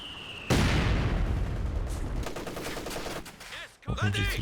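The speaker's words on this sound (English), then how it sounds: "MG34 on the south, forcing a retreat there" MG34 and Maxim heavy machine guns fire in a Company of Heroes 2 battle: loud, dense bursts of rapid gunfire with booming impacts, easing briefly before another sharp volley.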